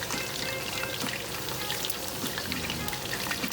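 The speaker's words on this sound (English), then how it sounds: "So it's been frying for like 5 or 6 minutes." Battered chicken for Korean fried chicken deep-fries in hot oil, a loud, dense crackling sizzle with scattered pops, continuous and close.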